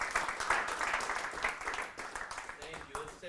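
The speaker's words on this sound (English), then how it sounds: "Let's give him a round of applause." An audience applauds steadily for a few seconds after a talk at a business seminar, the clapping moderately loud with a voice speaking over it.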